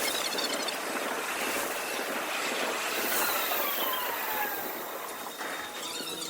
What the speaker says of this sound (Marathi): तर ही एक्सप्रेस ट्रेन आपली आलेली आहे.